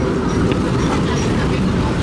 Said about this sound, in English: Oh, that's a 5 train.